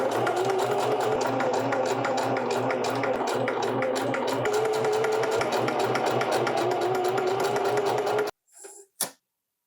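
A sewing machine straight-stitches T-shirt fabric in a long, loud, steady whirring run with quick needle ticking, then stops abruptly, followed by a couple of short clicks and handling noises.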